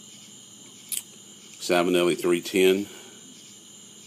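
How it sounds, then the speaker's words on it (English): Crickets chirping outdoors at night in a woodsy setting, a steady high-pitched drone running through the whole stretch while someone talks briefly in the middle. "You can hear the crickets chirping."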